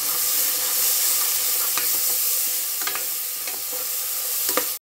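Homemade red chili powder being stirred into vegetable sabzi masala in a pan, a steady soft sizzle under scattered scraping spoon strokes, close and fairly loud, with no talking.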